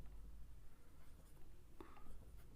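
Pen scratching on paper in a math lesson, faint and close, with soft short strokes over a low background hum.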